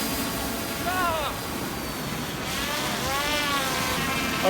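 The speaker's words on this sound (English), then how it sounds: "the drone is up and it is hovering 10 meters above me" A STAAKER self-following drone hovers about ten meters overhead and gives off a steady, thin, insect-like buzz that rises and falls slightly in pitch, with a voice talking over it.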